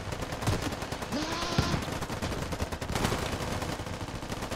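Video game gunfire in a shooter battle: rapid, continuous automatic shots crackling throughout at a steady loud level, with a brief electronic whine partway through.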